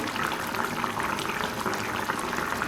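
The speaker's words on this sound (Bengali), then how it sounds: "তরকারিটা বলক আসার পরে প্রায় দশ মিনিট আমি এভাবে রান্না করেছি" Hilsa fish curry with potato and brinjal boils steadily in a pot, a dense, continuous bubbling close by with no voices over it.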